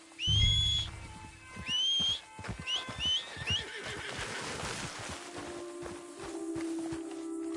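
A horse in the video game Red Dead Redemption II gives two loud whinnies near the start, followed by a run of clopping hoofbeats and shuffling, with a steady low tone underneath.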